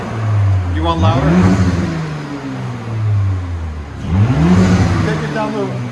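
A muffler-less 2019 Audi SQ5 dual exhaust revs twice from a low burble, each throttle blip climbing into a loud, close roar before settling back to idle.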